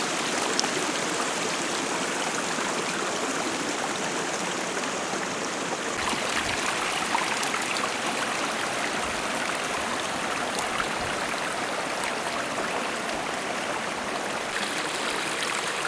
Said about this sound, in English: There's a bigger stream right over there, but a little one coming right down the path here too.